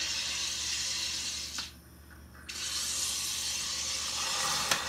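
A SodaStream machine carbonates leftover coffee, giving a loud, steady hissing rush of gas that briefly dips quiet mid-way before surging again, with a sharp click near the end.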